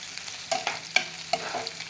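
Tomato and coriander dropped into onions frying in a pan, giving a steady low sizzle with a few sharp stirring scrapes and clacks spread across the moment, close and moderately loud, no voices.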